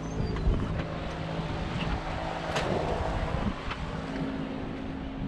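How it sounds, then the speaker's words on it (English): Wind gusting outdoors in a vegetable garden with tomato plants, a steady broadband rush and low rumble buffeting the microphone throughout, with no voices. "windy."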